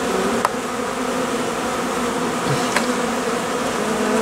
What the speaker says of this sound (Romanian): activitatea albinelor la ora actuală